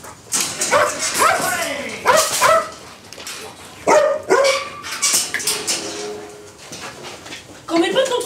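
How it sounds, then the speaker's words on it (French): A trained dog barks on command during a take on a French film set, with repeated short barks and yips in bursts, loud and close, mixed with whimpers and people speaking between and over the barks. "Alex, l'un de ses assistants, est chargé de faire aboyer Fantomas pendant la prise."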